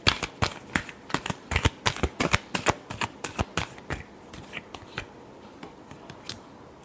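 Tarot cards being shuffled close up, a quick run of crisp riffles and snaps that tapers into softer, sparser flicks.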